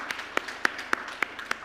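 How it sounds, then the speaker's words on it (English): A handful of sparse, evenly spaced claps at a tourism awards summit ring out one by one at a moderate distance, about six sharp hand strikes over a quiet background rather than a full crowd ovation. "Let's have another huge round of applause,"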